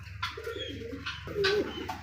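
A white Indian Bombay pigeon coos close by in a low, throaty call, repeated over two seconds above a soft background hum.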